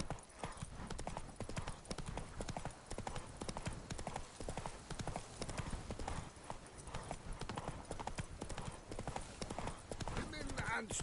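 Roach the horse galloping in The Witcher 3, a rapid steady clip-clop of hooves running close and loud throughout, with a voice speaking over it.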